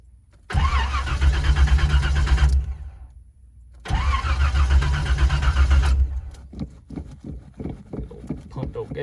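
An old V8 Chevy S10 with a weak battery cranks in two long, loud bursts separated by a pause, then catches and sputters into a rough, uneven idle.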